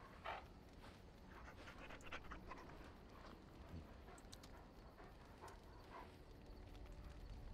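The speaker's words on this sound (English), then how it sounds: "Bounces around you, barking excitedly." A dog in the Dragon Age Origins video game pants steadily and quietly, with faint soft clattering behind it and no clear barks.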